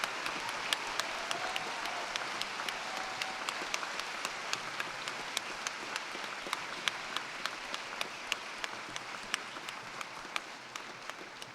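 Audience applause at a graduation ceremony: steady, sustained clapping from a large crowd filling the hall, even and continuous throughout with no talk over it.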